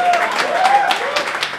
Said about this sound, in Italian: Facciamo l'applauso.